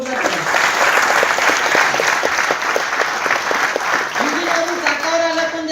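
A room full of people clapping loudly and steadily at a company gathering, dense continuous applause with a voice speaking over it toward the end.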